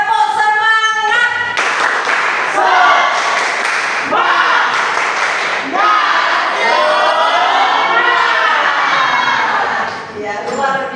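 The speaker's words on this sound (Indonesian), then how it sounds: "Tepuk semangat!" A school class claps and chants together in a rhythmic spirit cheer, loud and close, with many voices shouting in unison over bursts of claps.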